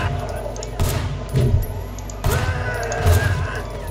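Gunfire in the open-world action game Sleeping Dogs: several sharp bursts of shots land in quick succession over continuous game background noise, loud and close.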